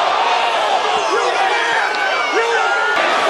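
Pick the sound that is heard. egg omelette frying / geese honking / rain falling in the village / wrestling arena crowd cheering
wrestling arena crowd cheering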